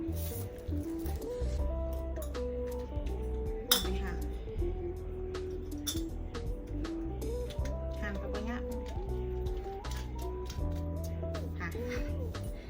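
Small toy pot and lid pieces clink and clatter in a child's play kitchen set, with scattered light taps and knocks under ongoing talk throughout.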